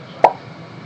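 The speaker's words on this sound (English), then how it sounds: "how to make a popping sound like this" One quick, hollow pop made with a finger and the cheek, close and alone against a quiet background.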